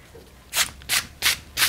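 Hand brushing kiln brick dust off a kiln section, four quick rhythmic swishes close to the microphone, each a short rough rub with quiet pauses between.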